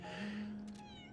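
A cat meows once in the video game Lies of P, a short clear mid-pitched meow with a slight rising tail, close and alone.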